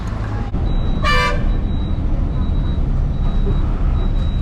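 A Sri Lankan bus horn gives one loud, bright toot that rises clearly above steady road traffic and engine rumble, with other faint horn tones sounding later.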